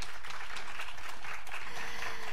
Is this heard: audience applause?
yes